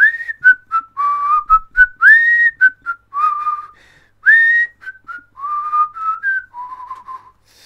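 A person whistles a lively, wandering tune of short and held notes, clear and fairly close, with brief pauses between phrases.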